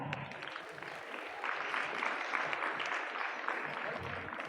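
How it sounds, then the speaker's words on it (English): A school audience at a Republic Day event claps steadily, the applause swelling slightly midway and continuing as a sustained patter of many hands. "Please clap."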